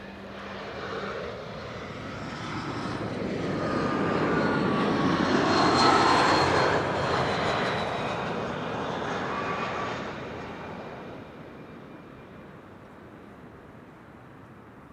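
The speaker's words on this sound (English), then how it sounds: "I think you can hear the triple's engine starting." A Boeing 777 jet engine spools up at Amsterdam Schiphol Airport, a broad, loud roar with a rising whine that swells toward the middle and eases off gradually, heard outdoors with no talk.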